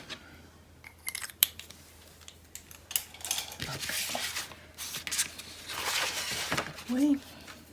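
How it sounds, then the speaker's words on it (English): Small scissors snip craft material for a spring farmhouse project, with sharp close clicks and cuts mixed with rustling of paper, under soft talk. "Probably use your little scissors would be a better idea."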